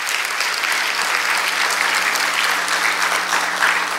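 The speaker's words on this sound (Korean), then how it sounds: "우리 저 박수 한번 드리겠습니다" Applause from a church concert audience honouring visiting pastors. Steady, dense clapping from a large crowd fills a hall and continues evenly for four seconds with little other sound.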